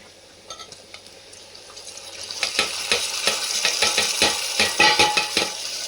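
Tomatoes tipped into a frying pan over cumin for an Indian potato and pea bhaji, then stirred, with a rising sizzle and a run of sharp spoon scrapes and clinks against the pan.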